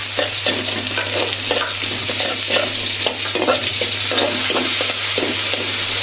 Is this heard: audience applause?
no